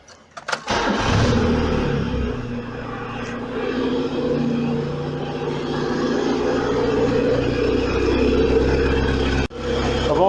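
A car engine fitted with a Speeduino idle actuator cranks and catches, then settles into a steady, loud idle of about 1000 RPM, with a brief dip near the end; no speech.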